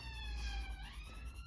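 A distant emergency vehicle siren passing along a main road, its wailing tone faintly sliding in pitch over a low rumble of traffic.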